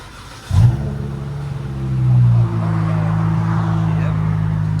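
A 2017 Dodge Challenger SXT 3.6L V6 with Flowmaster Super 10 mufflers starts with a sharp burst, revs up briefly, then settles into a deep, steady rumbling idle close by.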